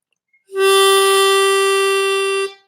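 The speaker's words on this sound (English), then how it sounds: "and then blow into 3." One clear, steady note is blown into hole 3 of a diatonic harmonica, sounding alone and close for about two seconds before stopping cleanly.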